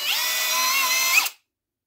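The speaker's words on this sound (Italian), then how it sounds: "come potete vedere il trapano si è bloccato" A Bosch Professional GSB 18V-150 C BITURBO cordless drill whirs steadily at close range, its pitch wavering slightly, then cuts off abruptly into silence as its automatic shutoff stops it.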